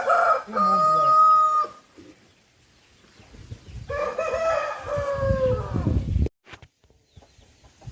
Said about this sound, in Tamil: இது சேவல் தான்